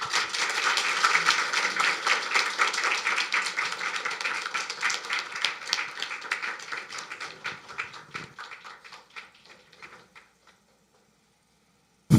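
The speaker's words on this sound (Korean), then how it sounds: "박수하겠습니다" Church audience applauding to welcome a speaker at a revival meeting, dense rapid clapping that gradually thins out and fades to silence after about ten seconds.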